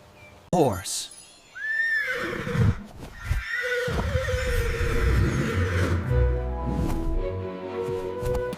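A horse neighs loudly and nearby, starting with a sharp rising whinny and then a long, shaky, quavering call that trails off.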